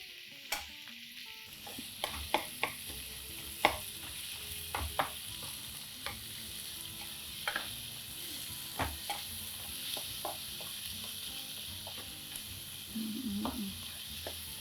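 Coriander and chilies frying in a pan make a steady, soft sizzle, with occasional utensil taps and stirring scrapes, close but quiet, and no talking.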